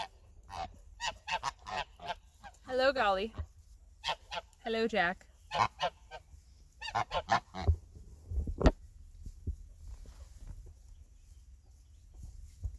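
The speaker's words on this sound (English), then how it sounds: "Here comes the geese." Geese honk repeatedly in loud, harsh bursts, close by, with a person briefly speaking between the calls.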